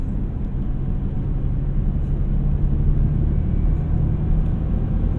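A Saab 9-3 Aero XWD sedan accelerating in fourth gear on a highway, with a steady, loud low engine drone and road rumble building slightly, with no voices.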